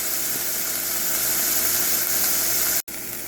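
Cheese dip ingredients sizzle in olive oil in a pan, giving a loud, steady frying hiss that runs unbroken except for one brief cutout near the end.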